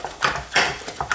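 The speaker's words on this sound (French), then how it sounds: "Et on touille." A mixer beater turns gnocchi dough in a bowl, giving a quick run of soft, rhythmic knocks and thumps, close and fairly loud.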